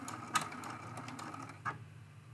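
A sewing machine back stitches on a quilt ornament, its needle running in a quiet, rapid mechanical patter with a couple of louder clicks.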